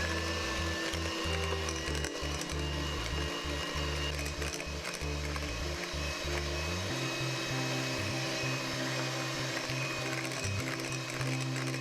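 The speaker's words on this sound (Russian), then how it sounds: "По одному добавить яйца комнатной температуры, тщательно взбивая после каждого." Electric mixer whirring steadily as room-temperature eggs are beaten one at a time into Victoria sponge cake batter, a loud continuous motor drone with pitch shifts midway as the load changes.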